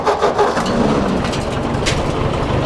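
A 1954 Ford Jubilee NAA tractor engine, fitted with new electronic ignition, cold-starts after sitting for two years, cranking and catching into a loud, steady, close running rumble with no talk.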